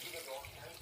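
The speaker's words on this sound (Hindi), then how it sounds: "2 ग्लास भर के मैं इसमें पानी ऐड कर रही हूँ" Water is poured into a pot of Hyderabadi sire paye salan, goat head and trotter curry, on a stove at full flame: a short, steady, moderately loud splashing flow.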